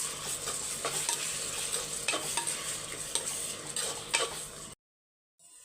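Ginger garlic paste sizzles and crackles in a hot pan while a spoon stirs and scrapes a few times, then the sound cuts off abruptly.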